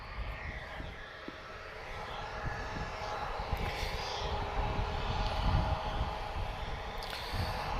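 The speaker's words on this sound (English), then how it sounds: "we've got an A321 inbound, TP1931, he's arriving from Porto" An Airbus A321 airliner inbound to Lisbon Airport produces a steady, broadband engine roar that swells gradually as it approaches, with no talking over it.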